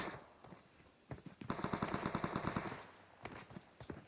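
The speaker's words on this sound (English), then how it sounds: "I hear some gunshots" Rapid bursts of automatic gunfire in a video game, a dense rattling run of shots lasting about a second and a half, then scattered single shots, moderately loud with no talking.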